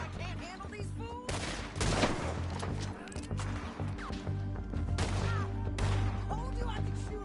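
Video game gunfire fills the scene in rapid, overlapping bursts of loud, close shots under steady game ambience, with short pauses between volleys.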